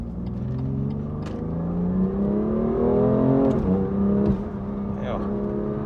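A BMW M2 Competition's engine revs hard under acceleration, its loud, close growl rising in pitch and swelling to a peak before easing back, with faint voices in the cabin.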